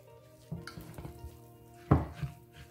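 A spoon works through cornbread stuffing moistened with broth, giving quiet wet squelches and a few louder scrapes and knocks against the dish, close and faint with no talking.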